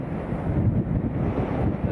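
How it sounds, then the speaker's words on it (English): Strong, cold wind buffets an outdoor microphone at Leeds Bradford Airport, a steady low roar with gusty swells that carries on for the whole stretch without pause. "it's very, very cold, it's rather windy"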